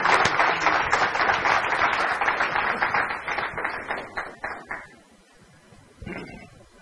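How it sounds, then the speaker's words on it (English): A studio audience at an innovation lab session bursts into dense clapping that thins into a few scattered claps and dies away, followed by near silence and a brief closing sound. "How about another round of applause,"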